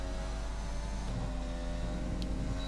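A Formula 1 car in the F1 video game, Australian GP at the Albert Park circuit, holds a loud, steady engine drone as it accelerates under full throttle, with a continuous high harmonic whine and no talk over it.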